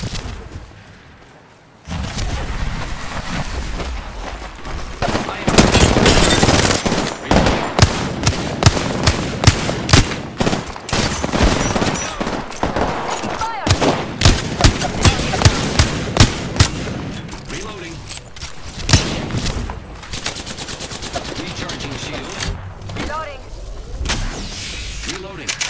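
Dense gunfire in the video game Apex Legends, rapid bursts and single shots crackling near and loud for long stretches, with voices talking over parts of it.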